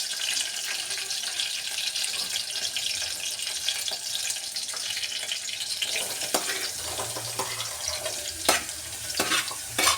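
Onions tossed into a hot tempering of green chillies, curry leaves, cumin and mustard seeds, a steady close sizzle with stirring scrapes and a few sharp clinks of a spoon against the pan near the end.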